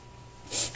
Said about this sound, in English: Okay, there's a sniffle.